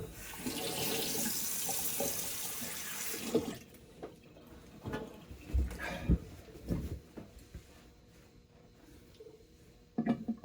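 Tap water runs steadily at close range for a few seconds while someone rinses off after a bay rum shave, then stops, leaving scattered splashes, drips and handling knocks in a quiet room.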